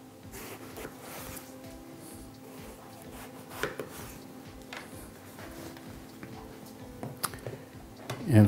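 A knife slicing vegetable rounds about a quarter inch thick for ratatouille on a cutting board, a steady series of crisp, close chopping taps in an even rhythm, with a louder knock at the end.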